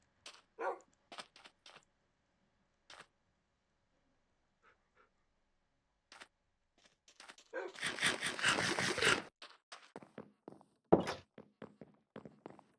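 Dogs in the Minecraft video game, heard at night, give scattered short yips and soft thuds across long quiet gaps, with one louder, denser flurry of noise midway through.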